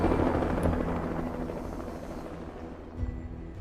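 A helicopter's dense rotor and turbine roar fills the scene, loud and close at first and easing slightly over a few seconds, with a dull thump near the end and no voices over it.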